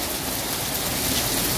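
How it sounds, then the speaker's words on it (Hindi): Heavy rain mixed with hail pours down in a busy market in Lahore, a dense, constant roar of water and hailstones drumming on surfaces, loud and unbroken with no voices. "ये देखें गाइस, ये देखें बहुत तेज़ बारिश। और ये ओले भी पड़ने शुरू हो गए हैं गाइस।"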